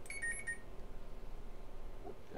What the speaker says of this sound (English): There's a beeping